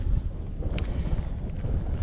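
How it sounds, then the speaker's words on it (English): Strong wind buffets the microphone on an exposed mountain summit in the Shining Rock Wilderness along the Art Loeb Trail, a steady low roaring rush that fills the whole stretch with no speech over it. "Super windy up here as usual."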